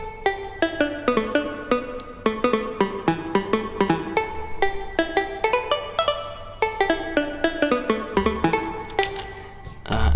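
A stabby pluck synth from a track plays a quick, bouncing melodic pattern of short, bright staccato notes over a low sustained bass, close and clear with no voices.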